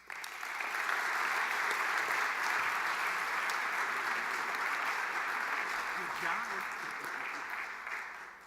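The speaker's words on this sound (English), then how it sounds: "give a round of applause for Greg Stubbe" A large audience gives a sustained round of applause as speaker Greg Stubbe is welcomed, a loud, even roar of clapping that swells quickly and holds for around eight seconds before easing.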